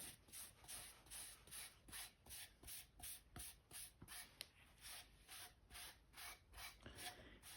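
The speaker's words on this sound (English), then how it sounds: "we're going to buff it out with the steel wool to our desired sheen" Steel wool buffing a wood finish in quick, even back-and-forth strokes, a soft rhythmic rasping about twice a second, close and faint with no talking.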